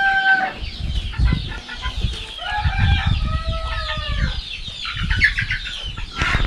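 Native country hens, one about 1.5 years old, cluck and chatter continuously close by, with overlapping calls and a brief flutter of wings, steady throughout.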